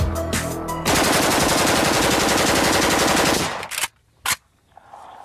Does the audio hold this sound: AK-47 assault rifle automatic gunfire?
yes